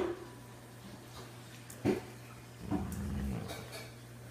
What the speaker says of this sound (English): You need to stop growling.